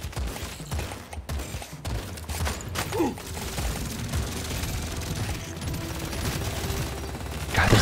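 A minigun in the video game Deep Rock Galactic Survivor fires in a dense, continuous rattling stream, mixed with game effects and explosions, loud and unbroken throughout.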